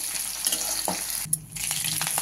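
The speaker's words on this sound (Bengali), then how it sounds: "দিয়ে দিলাম তেজপাতা ফোড়ন, দিয়ে দিচ্ছি শুকনো লঙ্কা 5টা" Bay leaf and whole spices hitting hot oil for a tempering in a broken-wheat khichuri, a loud close sizzle with a brief burst of crackling and a couple of utensil knocks.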